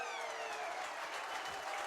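A half-time siren wails at a Barrow Raiders rugby league match, a steady tone held throughout over the noise of a crowd.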